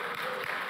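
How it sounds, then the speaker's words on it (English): A church audience applauds mothers at a Mother's Day service, a brief, fairly faint wash of steady clapping. "Let's give them all a round of applause."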